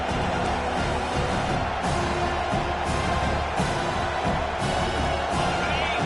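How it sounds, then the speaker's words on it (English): A stadium crowd roars and cheers for the defense on third down in a Madden / NCAA 25 football video game, a loud continuous wall of noise with scattered whoops swelling throughout. "Decibels rising as the crowd gets behind this defense on 3rd down"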